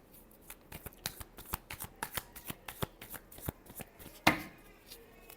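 Tarot cards shuffled by hand in a rapid series of crisp riffling snaps, close and fairly loud, ending in one heavier slap as the deck settles.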